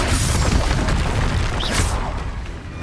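A Confringo fire spell from Hogwarts Legacy goes off in a heavy, close boom with a rolling low rumble and crackling burst that fades over a few seconds.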